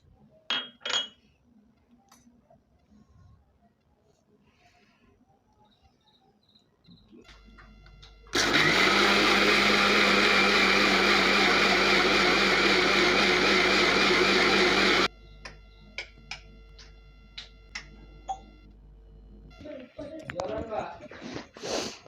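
An electric blender whirs loudly and steadily for several seconds, blending sugar and oil into a paste for an apple cake, with quiet kitchen clinks before and after.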